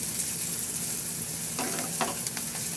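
Garlic and ginger sautéing in hot oil in a pan, a steady close sizzle with a few scraping stirs of a utensil.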